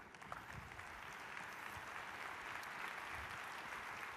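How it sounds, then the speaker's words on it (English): A live audience at a motivational talk claps together in a steady rhythm, a dense, even wash of hand claps that carries on without a break and without voices. "I want you guys to emulate by clapping what I do."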